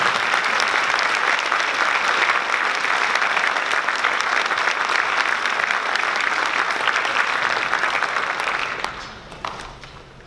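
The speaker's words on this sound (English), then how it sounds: "So a round of applause for all those who have made the PMEA district." An audience at a school spring instrumental concert applauds with loud, dense clapping that carries on steadily for about nine seconds, then quickly tapers off into quiet room sound.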